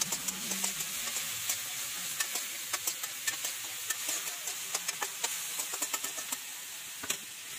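Jackfruit frying in a wok, steady soft sizzle with repeated sharp scraping taps of a spatula stirring, close and alone without talk.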